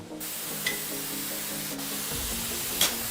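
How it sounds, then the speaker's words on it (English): A spray gun hisses steadily as it lays lacquer finish onto the back and neck of a guitar, a close, continuous airy spray with brief pauses and small pops between passes. "all I'm going to do is spray the back and the back of the neck"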